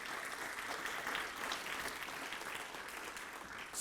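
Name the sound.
audience applause for parents and loved ones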